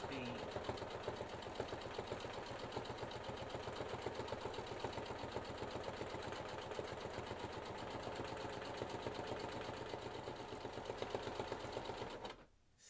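A sewing machine runs steadily through a machine-quilting session, its rapid even stitching chatter continuing close and loud for about twelve seconds before stopping abruptly.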